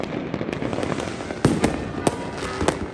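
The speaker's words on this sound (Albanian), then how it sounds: "Në Gjirokastër lëndët piroteknike u hodhën prej kalas" New Year 2024 fireworks burst over Gjirokastër in Albania, launched from the castle, the municipality and the streets. Sharp cracks and booms repeat irregularly over a continuous crackling, fairly loud and close, with no talk.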